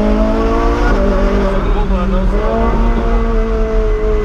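A Ferrari sports car engine holds a loud, steady revving drone up close, its pitch shifting as it accelerates and eases, with no talk over it.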